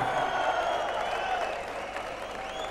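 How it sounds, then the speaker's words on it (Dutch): Audience applause at a billiards match: a steady wash of many hands clapping, moderately loud and continuous, tapering slightly toward the end with faint murmurs underneath. "En natuurlijk ook een sympathiek applaus voor zijn tegenstander, Ramiro Susanna."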